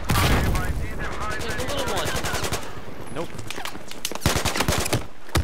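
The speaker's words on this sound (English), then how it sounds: "Yeah, I'm in the main cannon on the gunship." Battlefield gunship main cannon firing, with dense rapid bursts of loud shots rattling nearly throughout, and a voice speaking briefly over the gunfire.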